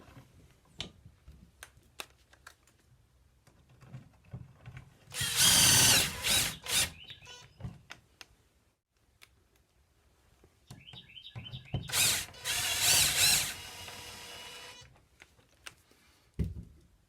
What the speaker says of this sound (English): we can go ahead and put our screws in and tighten it up